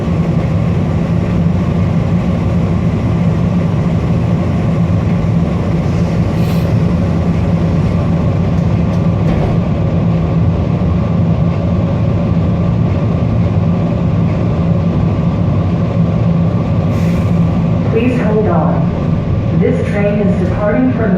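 A Metro Rail passenger train pulls away from the 44th Street Station, its low steady rumble and engine drone running continuously and close, with faint higher squeals near the end and announcements or talk mixed over it.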